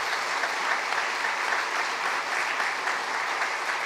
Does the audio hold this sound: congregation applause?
yes